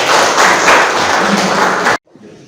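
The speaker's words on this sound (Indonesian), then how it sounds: "tepuk tangan untuk kita semua" A classroom group claps together in a dense, steady burst that cuts off abruptly near the end, leaving faint room noise.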